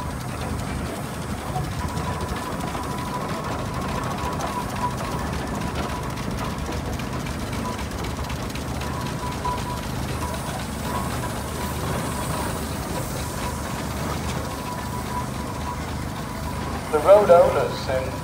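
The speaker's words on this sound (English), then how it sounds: "Sentinel steam wagon, in good condition, showing no livery, doesn't want to, doesn't have to." A Sentinel steam wagon in good condition, unliveried, runs at a steam rally, giving a steady mechanical rumble and rhythmic clatter throughout, with a brief louder burst near the end.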